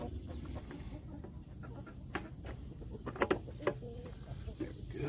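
Chickens clucking softly on a hot day, with scattered faint clucks and a few sharper calls over low ambient farm noise.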